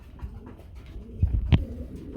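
Large pigeons of a breeding flock coo softly in short low bursts, one sharper call standing out near the end, close by with no talk.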